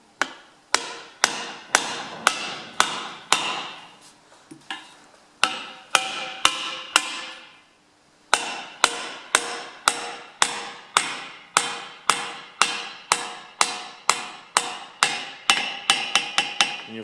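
Steady hammer blows drive a seal into the rear axle housing bore of a Ferguson FE35 tractor through a flat disc, about two dozen sharp metallic strikes in an even rhythm with one brief pause, quickening at the end.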